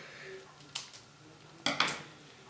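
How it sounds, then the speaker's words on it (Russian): Scissors opening a package during a children's craft session: a few sharp snips and crinkly rustles come in two short bursts, close and fairly loud, with quiet background between them. "Ну, открывай, давай ножницами."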